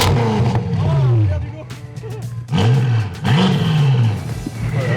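A BMW M5 tuned to around 900 hp revs hard on a test drive, its engine rising and falling in loud, repeated sweeps with a roaring exhaust, and voices talk over it.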